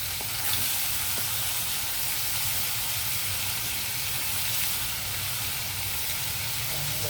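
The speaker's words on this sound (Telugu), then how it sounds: "కొద్దిగా రొయ్యలు ఫ్రై అవనిద్దామండి." Prawns sizzle and fry in hot oil in a pan, a steady, close crackling hiss that runs unbroken through the whole stretch with no talking.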